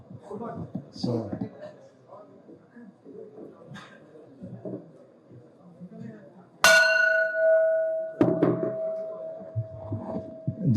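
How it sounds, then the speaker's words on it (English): A ceremonial bell gonged once at an IPO listing ceremony, a sharp bright strike with a long ringing decay, followed by a second hit, heard amid crowd chatter and talk. "why don't you come and gong the bell?"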